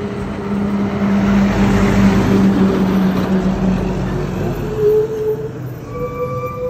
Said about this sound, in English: This sounds like a big truck.